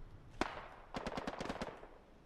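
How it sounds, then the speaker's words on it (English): An ME-109 fighter plane makes a strafing run in the WW2 shooter Hell Let Loose. One sharp shot is followed by a rapid burst of machine-gun fire, moderately distant, with no speech. "Strafing run. Whoa! That was an ME-109."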